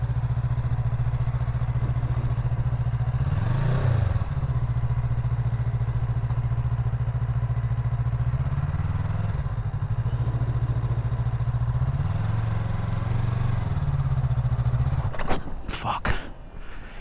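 A Yamaha MT03 motorcycle idles steadily up close, with its engine swelling briefly a few times, then a quick burst of revving as it pulls away near the end; no talking.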